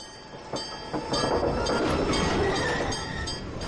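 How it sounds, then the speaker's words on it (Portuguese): A Bahia Tramway electric tram running along a street in Salvador, a loud rolling rumble with metallic clinks and wheel clatter that builds and stays close as it passes. "O bonde!"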